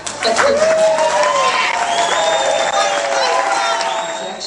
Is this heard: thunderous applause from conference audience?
yes